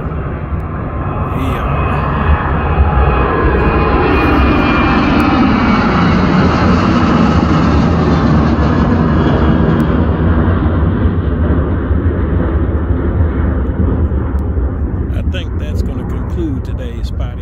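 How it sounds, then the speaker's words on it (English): A Boeing 737-900 jet in Continental retro livery passes at IAH airport at sunset, its loud roaring engines sweeping downward in pitch as it goes by, sustained and close, then fading slightly. "Beautiful plane, 737-900."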